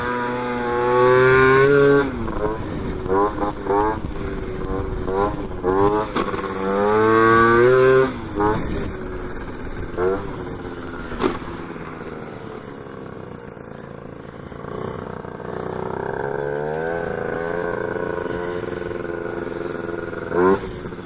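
A moped engine revs hard during a wheelie, loud rising and falling buzzing whines in repeated bursts up close, then settling into a steadier, fainter drone.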